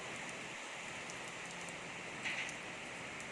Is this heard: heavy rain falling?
yes